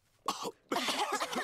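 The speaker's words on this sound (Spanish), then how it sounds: "Los adultos se contagiaron de la tos que tiene Pedro." Cartoon coughing from an animated pig show: a short cough, a brief pause, then a longer burst of harsh coughs close up.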